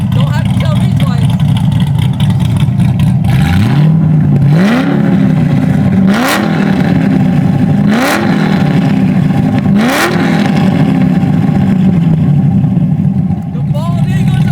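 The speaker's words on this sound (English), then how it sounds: "Give it a couple revs." A 700HP Corvette engine revs hard several times in a row, each loud, close rev sweeping up and falling back over a steady rumbling idle, with voices mixed in.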